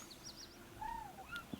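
A cute bird card in the MTG Arena video game lets out a faint, brief synthetic chirp, a couple of quick whistled tweets over quiet game background.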